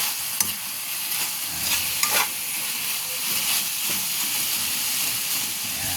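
Frog sautéed in a pan with kamias, annatto and aromatics: a steady, close sizzle with occasional scrapes and knocks from stirring.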